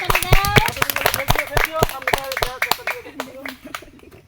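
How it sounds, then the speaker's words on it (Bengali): A group claps loudly and irregularly for a wrestling prize winner, with sharp close hand claps mixed with talking voices that taper off toward the end. "সবাই একটা করতালি হবে জোরে।"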